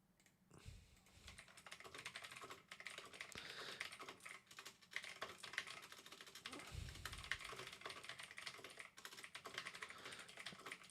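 Rapid, uneven clatter of keys being typed on a computer keyboard, close and fairly quiet, running continuously in bursts with brief pauses and no one talking.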